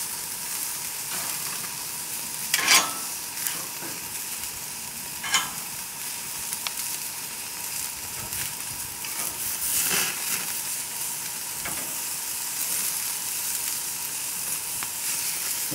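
Vegetables such as asparagus, zucchini and shallots sizzle steadily on a hot grill, a close, continuous crackle with a few sharper pops and scrapes scattered throughout.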